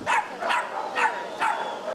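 Dogs at an animal shelter bark loudly and close by in four sharp, evenly spaced barks with some yipping, and the sound cuts off abruptly at the end.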